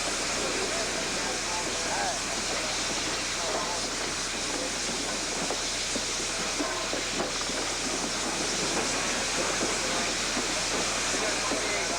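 Steam locomotives CP Royal Hudson and CN 6060 roll backwards into town, giving a steady broadband rumble and hiss with faint rhythmic clatter throughout, mid-distance and continuous.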